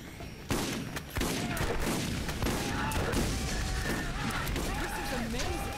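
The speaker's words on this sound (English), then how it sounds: "Somebody's shooting at me, but I can't tell from where" Heavy gunfire and blasts from a Borderlands battle, with an enemy rocketeer firing from somewhere unseen, loud and sustained, with players talking over it.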